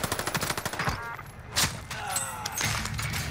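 Rapid automatic gunfire rattles in Call of Duty Warzone, a fast burst of close shots followed by scattered single shots and muffled bangs from a firefight.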